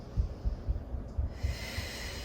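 Breathing during a Pilates rib-mobility and pelvic-floor exercise: soft rhythmic huffs repeat about every quarter second, then a long steady airy exhale takes over, close and fairly quiet, with no talking.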